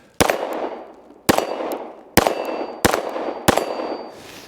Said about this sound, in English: let me see if I can put some more rounds on target here